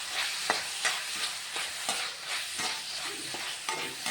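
Spoon stirring turmeric, chili and coriander powders in a pan for Kerala sadya-style koottukari, giving a steady series of scraping strokes over a faint sizzle, with no one speaking.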